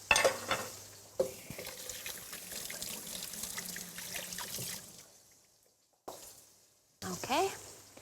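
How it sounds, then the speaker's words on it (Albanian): Cheese-stuffed beef steaks sizzle and crackle in a hot pan with stirring scrapes, a steady frying hiss broken by short pauses and clatter. "Skuqim veç mas"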